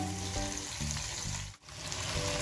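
Onions frying in a hot pan while being stirred in for a noodle dish, a steady loud sizzle with scraping stirs throughout and a brief dip near the middle, no talking.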